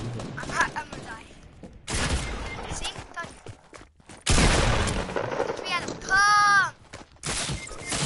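Bursts of gunfire in a multiplayer video game, loud and intermittent, with a ringing, whistling effect in the middle, while players talk excitedly over it.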